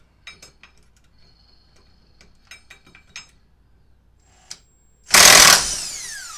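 A ratchet with a 24mm deep socket works on a Suzuki Burgman 400 scooter, making scattered light clicks and ticks in a quiet space, then a sudden loud rushing burst that fades out.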